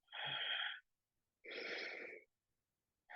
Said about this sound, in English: Nice, full, deep breath.